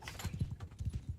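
Horse hooves clip-clop in the medieval battle game Mount & Blade Bannerlord, a quick, fairly steady run of soft, muffled hoofbeats over a brief stretch, moderately quiet and heard alone.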